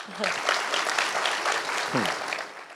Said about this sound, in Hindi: ताली जरूर बजाइए